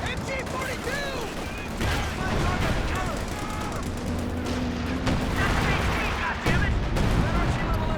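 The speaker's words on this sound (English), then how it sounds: "Barbarossa also fielding the Priest on the barrage over here." A Priest self-propelled artillery barrage in a Company of Heroes 2 multiplayer match delivers a dense, continuous stream of booming shell impacts and gunfire, loud and unbroken, with battlefield clatter mixed in throughout.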